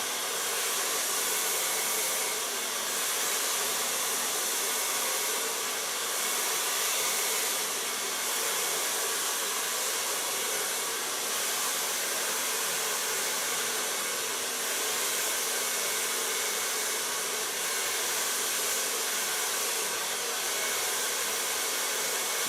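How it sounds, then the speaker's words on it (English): A hair dryer blows steadily and loudly, close up, as hair is blow-dried at the roots after bleaching and coloring, a continuous broadband whoosh with no pauses. "Start blow drying in the underlines"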